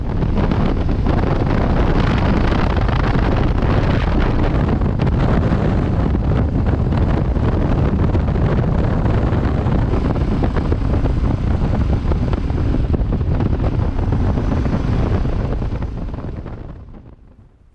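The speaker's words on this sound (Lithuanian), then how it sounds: "kariaujam su vėju" Strong wind roars and buffets the microphone nonstop during a motorcycle ride around Iceland on a light bike, loud and close, fading out near the end.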